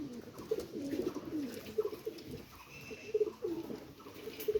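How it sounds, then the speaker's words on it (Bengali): Aliwala pigeons coo in a soft, repeated low murmur, several birds calling close by in overlapping rounds with light rustling between phrases. "এগুলো সব আমার মাস্টার পেয়ার আলিওয়ালা কবুতর।"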